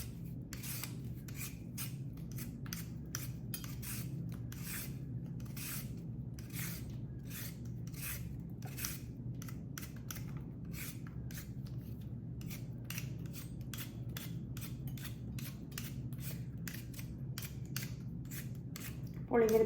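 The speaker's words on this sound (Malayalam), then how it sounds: "ഒരു പീലർ ഉപയോഗിച്ച് നമുക്കിത് പീൽ ചെയ്യാവുന്നതാണ്." Sweet potatoes are peeled with a hand peeler, heard as a rapid, regular series of close, scraping strokes that continues for about twenty seconds over a low background hum.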